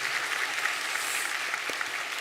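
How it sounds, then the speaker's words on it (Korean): Steady applause from a church congregation during a Sunday worship service fills the room, dense and continuous clapping throughout without voices. "온 가족 위에 박수로 격려하겠습니다"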